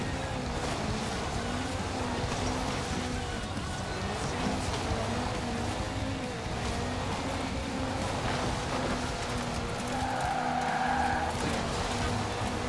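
A car drifts in the racing game Forza Horizon 4, its engine droning steadily under long, sustained tire squeals and skidding that rise and fall as it slides around a drift zone, loud and continuous with no speech.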